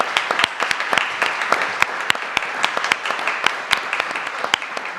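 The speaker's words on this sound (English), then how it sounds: "You can clap for him if you want." An audience at a school board meeting applauds a student, a brisk, sustained burst of many hands clapping with sharp individual claps standing out, steady for several seconds.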